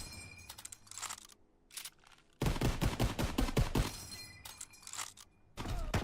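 Rifle gunfire from an M1 Garand in Call of Duty WWII, a burst of rapid sharp shots with a few scattered reports before and after, loud and close with no talk.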